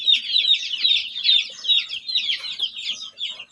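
Week-old chicks kept in a group chirp and peep continuously and close by, with high overlapping calls in a steady chatter. No other sounds are heard.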